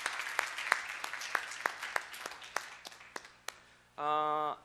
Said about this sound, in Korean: 한번 뜨거운 격려와 환영의 박수 한번 보내드릴까요?